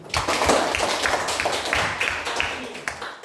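Students in a classroom clap together for a classmate during a maths lesson, a short burst of scattered, uneven hand claps with some sharp taps standing out, moderately close.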